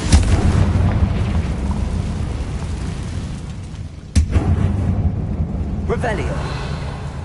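Confringo fire-blast spell exploding in Hogwarts Legacy, a loud rumbling blast with a sharp crack midway and a lighter pop afterward, heavy low-end roar throughout.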